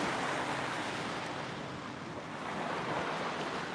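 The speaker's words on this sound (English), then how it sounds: "We've got minimal waves" Small, gentle ocean waves at a beach around sunset, a soft continuous surf wash with faint wind, fairly even in level throughout and free of talk.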